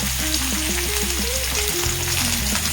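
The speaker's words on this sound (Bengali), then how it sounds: "দেখো ঝিঙেটা ভাজা করছি আমি কিন্তু ওর মধ্যে লবণ হলুদ কিছুই দিচ্ছি না" Ridge gourd fries gently in a pan with a soft, steady sizzle. Faint melodic tones run underneath, and no one speaks.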